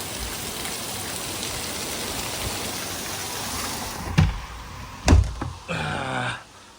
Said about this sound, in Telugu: వర్షం చూడండి ఎంతగానో పడుతుంది ఫుల్ వర్షం పడుతుంది